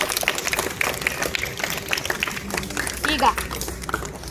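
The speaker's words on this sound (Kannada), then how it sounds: "ಈ ಮಕ್ಕಳಿಗೆ ಒಂದು ದೊಡ್ಡ ಚಪ್ಪಾಳೆ ಬರಲಿ ಮಕ್ಕಳಿಗೆ" Audience claps for children at a school event, the scattered hand claps rising and falling beneath a voice speaking throughout.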